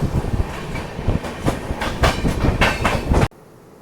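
Hirakhand Express running between Bhubaneswar and Koraput in monsoon weather, its wheels beating a loud, rhythmic clickety-clack over rail joints before cutting off abruptly near the end.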